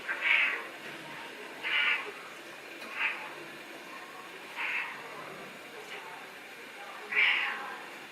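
A cat meows five times, spaced a second or two apart, each cry clear and fairly close against a quiet background.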